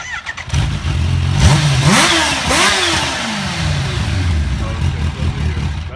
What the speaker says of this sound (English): Start and rev.